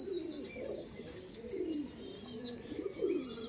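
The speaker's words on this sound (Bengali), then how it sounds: "এই দেখুন পায়রা, এটা নর, এটা মাদি" Andhra pigeons, a male and a female, give soft, repeated rolling coos close by, several low calls in a row with no voices.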